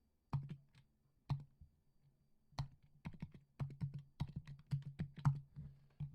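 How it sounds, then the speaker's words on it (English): Someone types a password on a computer keyboard, with close, crisp keystrokes arriving slowly at first and then in a quicker, uneven run, and no talking. "Again, enter a password."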